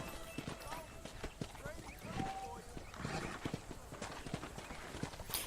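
Horse hooves clip-clop at a steady walking pace in the Red Dead Redemption western game, the regular beats sounding close and continuing throughout while people talk over them.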